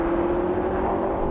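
A Mercedes-AMG E63, BMW M5 and Audi RS6 accelerate hard in a drag race, a loud, steady engine roar with a sustained tone heard from inside one car over a brief stretch.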